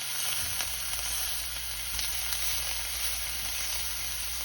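Shrimp and pork fry in an oiled pan with a steady, dense sizzle that stays even throughout, heard up close with a faint scrape of stirring.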